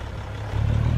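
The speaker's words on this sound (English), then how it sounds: "I love the sound of this truck." A heavy truck engine idles in Farming Simulator 25, a steady low rumble that swells slightly louder midway and holds close and alone.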